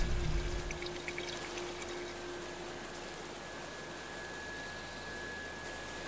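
A heli tanker in Life is Strange 2 releases water over a wildfire zone, making a steady, soft rushing pour that runs on evenly after a brief louder start.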